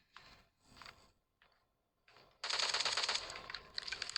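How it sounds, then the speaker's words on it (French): Rapid automatic gunfire in a video game, with a few short bursts followed by a loud, sustained stream of shots up close. "On entend les tirs."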